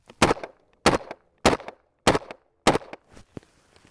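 A rifle fires five rounds in a freezing-cold test: five sharp, loud, close shots spaced evenly about half a second apart, with a softer report trailing at the end and no talking.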